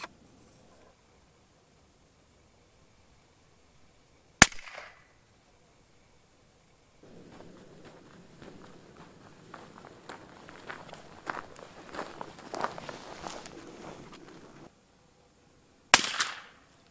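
Two sharp, loud airgun shots with a Ronin moderator fitted, one early and one near the end, each ending quickly, separated by a stretch of rustling handling noise and otherwise quiet surroundings.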